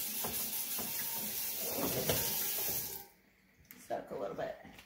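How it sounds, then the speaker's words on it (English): Tap water runs in a steady hiss onto a microwave part set in a sink for soaking, then cuts off near the end, leaving quieter handling clatter; a voice is heard faintly during the clip. "And maybe just throw some water on it."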